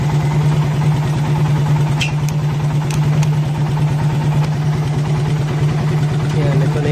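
A Suzuki Raider 150 motorcycle engine idles close by with a loud, steady, rapid low chug that holds unchanged throughout, with a few faint clicks and taps above it.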